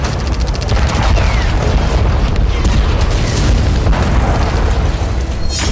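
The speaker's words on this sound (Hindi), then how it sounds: "ताबड़तोड़ धमाकों से दहला खार्किव।" Explosions strike the city of Kharkiv in a dense, loud barrage of overlapping booms and blasts that rumble on without a break, with no voices heard.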